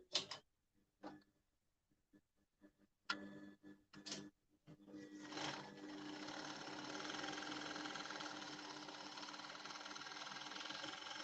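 A sewing machine hems the bottom of a butterfly skirt, first a few quiet ticks and short starts, then running in a steady, close whirring buzz that continues alone to the end.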